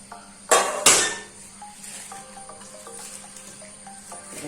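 Steamed patrode, a colocasia-leaf roll, is lifted and cut into pieces with two sharp metallic knocks followed by lighter clinks and scraping of utensils on a plate, close and without speech.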